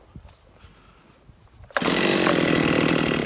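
A chainsaw, following a crank seal replacement, starts abruptly after a few quiet moments and settles into a loud, steady near idle that runs to the end.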